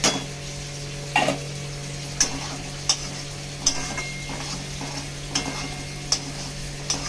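Shrimp and potato chunks stirred in a pan, a steady low frying hiss with a hum under it and sharp scraping clicks of a spatula against the metal every second or so, no voices.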